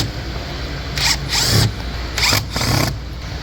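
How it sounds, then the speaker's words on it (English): A Phillips head screwdriver backs screws out of the air filter housing on a 2024+ Chevy Trax, giving three short, close scraping and ratcheting bursts over a steady background hum. "we're gonna use a Phillips head screwdriver to remove those 3 Phillips head screws"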